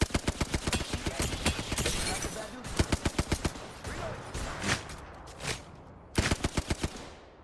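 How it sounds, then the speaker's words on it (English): A squad opens fire on a Valkyrie in Apex Legends, with rapid bursts of automatic gunfire in several volleys separated by short pauses and a final burst near the end. "We're gonna shoot in 3 on the Valk."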